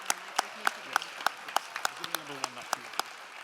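Audience applause for three venture finalists at a charity challenge finals event, a sparse, steady patter of claps from a modest crowd, fairly close and even in rhythm.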